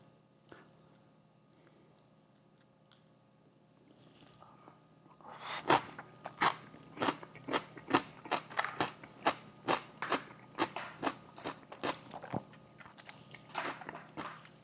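Crunchy kale slaw from a fast food chicken meal is chewed close to the mic. After a few quiet seconds comes a long run of rhythmic crisp crunches, roughly two per second, loud and alone without speech.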